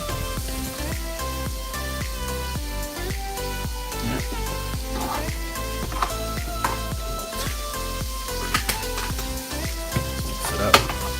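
Pork chops fry in a pan with a continuous sizzle and crackle, punctuated by scattered sharp pops and faint clinks, moderately loud and close, with no speech.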